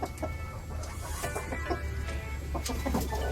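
A hen near her nest on a small farm clucks repeatedly at close range in short, uneven bursts over a low background hum.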